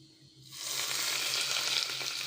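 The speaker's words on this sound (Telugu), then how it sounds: "పోపు పెట్టుకోవడానికి కరివేపాకు వేస్తున్నా పప్పు వేగిందండి" Curry leaves and fried lentils hiss into hot tempering oil for a tindora onion chutney, a sudden loud, close sizzle that jumps up after a quiet start and stays steady and crackling.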